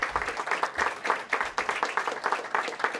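Audience applause at a mayoral press event with legislative updates, steady dense clapping from a small crowd with a faint voice under it, close and even for about three seconds.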